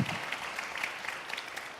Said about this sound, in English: And this is not only applause for Susan, but also for everybody sitting here today